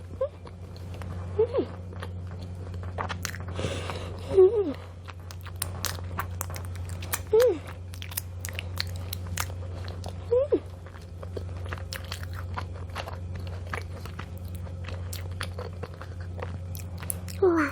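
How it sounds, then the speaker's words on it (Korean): Soft chewing and crunching of bread with garlic sauce, close to the mic, with occasional bites standing out over a steady low hum; no talking. "빵을 먹는데 마늘 소스가 너무 씹혀서"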